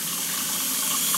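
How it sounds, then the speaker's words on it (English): Water running steadily from a newly installed Moen kitchen faucet into the sink, a loud, even, close hiss and splash with no voices. "I'm going to let the water run a little bit longer"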